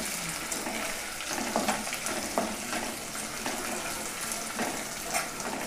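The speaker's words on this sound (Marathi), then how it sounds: "छान म्हणजे खरपूस असं तळून घ्यायचं अद्रक लसूण" Ginger and garlic fry in hot oil as a tempering for kadhi khichdi, making a steady, dense sizzle with faint crackles throughout and no talk.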